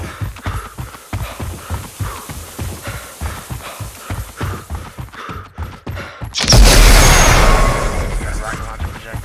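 A rocket launcher projectile fires in a UE4 third-person shooter: a sudden loud whooshing blast that swells and then slowly fades, coming after a long stretch of steady rhythmic thumping.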